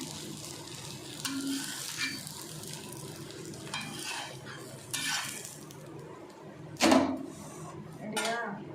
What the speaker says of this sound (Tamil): இன்னொரு தோசை வந்து இது மாதிரி ஊற்றி காமிக்கிறேன்